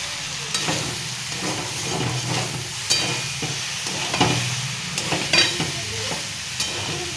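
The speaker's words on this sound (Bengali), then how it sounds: "চাউমিনটা দিয়ে এবার একটু নাড়াচাড়া দিচ্ছি। চাউমিনটাকে একটু ভাজা ভাজা করবো" Steady sizzling in a hot wok with repeated scraping and clanking as chow mein noodles are tossed and stirred, close and fairly loud.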